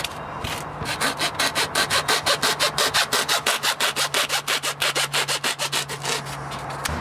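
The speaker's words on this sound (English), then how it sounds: "to cut insulation like this, it's a lot easier if you use an axe or blade." A blade saws back and forth through foam pipe insulation around trace-heated pipework, about two dozen rapid, even rasping strokes close up with no voices.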